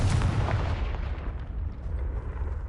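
In Hogwarts Legacy, a cast Confringo blast spell lands as a deep booming explosion with a sharp burst up front and a rumbling decay that rolls on for a couple of seconds.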